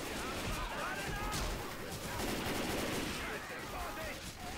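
AK assault rifle gunfire in Left 4 Dead 2 rattles in dense, continuous bursts, loud and chaotic with game effects and voices mixed underneath.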